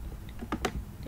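A few quick keystrokes tap on a computer keyboard while a search query is entered, a short cluster of crisp clicks up close with quiet gaps between them.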